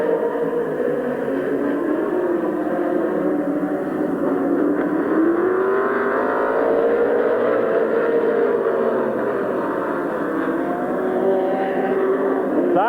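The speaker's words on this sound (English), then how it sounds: "Side-by-side racing." Race cars run side by side at Midvale Speedway, with a loud continuous engine roar that rises and falls as the cars accelerate and hold speed, heard from trackside.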